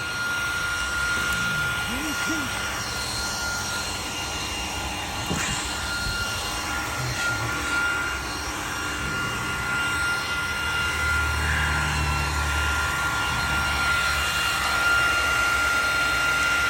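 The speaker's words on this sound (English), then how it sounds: "lawn whip, weed whip process" A string trimmer cuts tall, overgrown grass and weeds in a front lawn bed at a rental home, a continuous steady engine whine close by with a voice over it at times.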